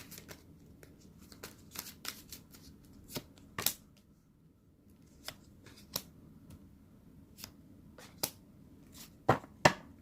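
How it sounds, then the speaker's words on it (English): A deck of tarot cards is shuffled by hand, giving a series of crisp riffling bursts and soft slaps at irregular intervals, close and fairly quiet, with brief pauses between shuffles. "let me give one last shuffle here"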